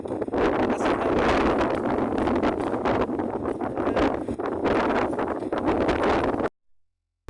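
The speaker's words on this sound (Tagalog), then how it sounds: "Malakas po yung hangin. Sandstorm po." Strong sandstorm wind buffets the microphone in loud, roaring gusts outdoors at night, rising and falling continuously for several seconds before cutting out abruptly.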